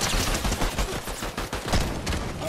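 Rapid gunfire bursts from the video game Fortnite, dense and loud with overlapping shots and volleys filling the whole stretch, no talking over it.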